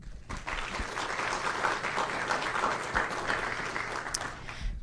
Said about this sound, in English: Please join me in a round of applause for the family members, extended family, and friends in attendance this afternoon.